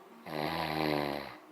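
A man snores loudly in a single long, close, rattling inhale that swells and fades over about a second.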